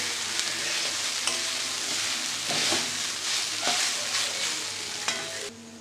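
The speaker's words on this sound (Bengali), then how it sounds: "এটা সুন্দর করে আমি ভেজে নেব" Flattened rice frying in ghee for pulao, a steady close sizzle with regular scrapes and taps of a spoon stirring in the pan.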